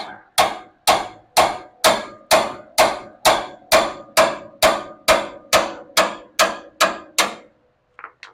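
An old wrench hammered against a ball joint nut on a Dodge D100 truck, fifteen sharp metallic strikes at a steady rhythm of about two per second, each ringing briefly before the next, then a faint clink.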